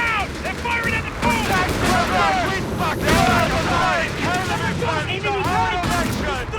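Gunfire in a Company of Heroes 3 battle in the North African desert, with dense overlapping bursts of shots and booms at steady intensity. Shouted voices and radio-like chatter run over the top.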